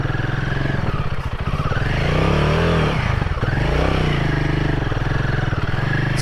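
A Royal Enfield Himalayan 450 motorcycle rides off-road nearby, its engine revving up and easing off in repeated swells, with some rattling from the bike over rough ground.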